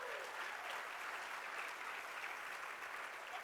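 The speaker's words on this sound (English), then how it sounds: "Give them another round of applause." A large union conference audience claps steadily for the board of directors, a dense, even roar of applause that holds at a constant level for the whole stretch with no break.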